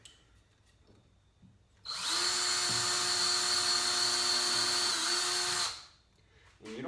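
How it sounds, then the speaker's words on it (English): A power drill with a small bit bores starter holes in wood while rebuilding a saw table, a loud, steady high whine lasting about four seconds, with quiet shuffling before and after. "So it's best just to use a small drill bit."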